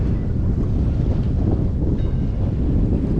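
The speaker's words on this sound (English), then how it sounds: "And the wind is picking up a little bit." Steady, broadband wind picking up while sailing in the Great Harbor of Mount Desert Island, Maine, rushing across the microphone with a low rumbling roar throughout and no voices.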